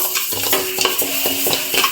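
Rice dry-roasting in a hot pan for homemade masala powder, with a steady scraping stir and light sizzle, the spoon knocking the pan in regular strokes, close and moderately loud with no talk.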